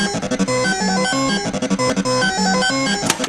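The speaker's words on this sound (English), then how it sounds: "That was the soundtrack from Gottlieb's Caveman" Electronic music soundtrack from a Gottlieb Caveman pinball machine, a busy, loud synthesized tune with repeating bass figures and bright tones playing continuously with no talk.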